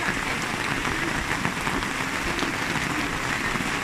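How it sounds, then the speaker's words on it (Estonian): Steady rain falls around a camper van during a family trip through Europe, a dense, even hiss of drops hitting surfaces close by with no voices. "vaata praegu hakkas ju sadama"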